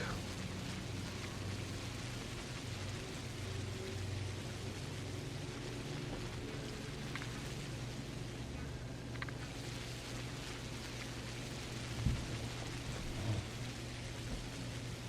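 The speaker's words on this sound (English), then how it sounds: "It's all raining and gross" Steady rain with distant rumbling thunder in the video game Pathologic, a continuous wash of rainfall at even loudness throughout with a few faint low thumps.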